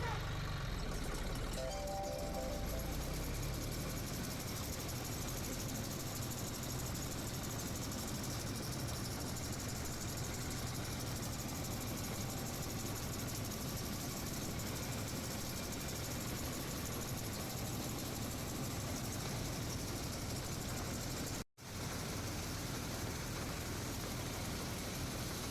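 A maize harvester's engine runs in a field, a steady low droning rumble that continues for the whole stretch, with a voice talking over it and a brief dropout near the end.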